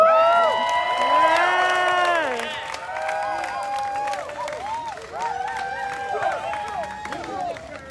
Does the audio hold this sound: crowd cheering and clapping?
yes